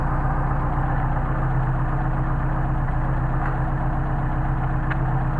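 A Mercedes 190SL engine idles on Solex carburetors, a steady loud close rumble with an even pulsing throb and no break throughout.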